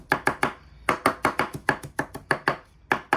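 A knife chops herbs on a cutting board for sprouted-bean chili, about fifteen sharp, close, evenly paced strikes with a short pause near the start.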